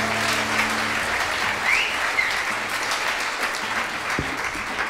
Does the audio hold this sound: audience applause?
yes